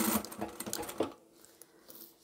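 A sewing machine backstitches on a fabric cutlery pouch in a dense, rapid burst of stitching for about a second, then stops and leaves quieter handling sounds.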